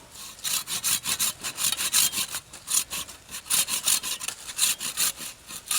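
A Daegun 360 folding pruning saw cuts through a thick piece of wood in steady back-and-forth strokes, a loud, close rasping rhythm of about two strokes per second with no talk.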